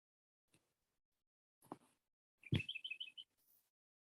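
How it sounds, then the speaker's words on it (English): A small bird gives a few scattered chirps, then a quick run of bright repeated notes, faint and set apart by stretches of near silence. "Oh, even the bird sings."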